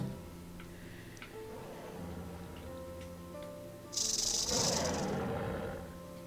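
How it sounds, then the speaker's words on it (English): Coniophis, a small legless reptile in Birthdays the Beginning, makes faint ticking clicks over a low ambient drone, then a louder buzzing rattle swells for about a second and fades. "He's like a rattly snake from the sounds of him."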